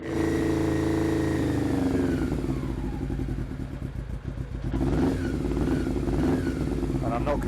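A Honda CB400 Super Four motorcycle engine with upjetted carburettors runs close by in a steady, throbbing idle with small rises in revs, and someone speaks over it.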